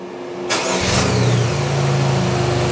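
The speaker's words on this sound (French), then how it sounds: "le moteur va redémarrer automatiquement" A GM 1.4L engine on a test bench automatically restarts under stop-start, turning over and catching, settling into a steady low idle hum with a faint higher whine.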